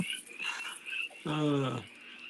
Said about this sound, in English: your frog's got a lot to say over there